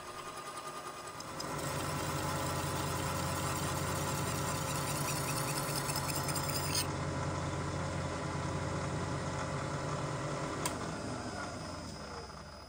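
A brass part squealing as it is cut on a metal lathe, a sustained tonal whine over the machine's steady running hum, held for several seconds at low volume before it tapers off.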